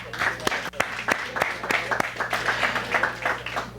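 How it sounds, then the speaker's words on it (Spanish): An audience at a church gathering claps for the grandparents, with scattered sharp individual claps over a steady low hum and a murmur of voices. "un aplauso a los que somos abuelos"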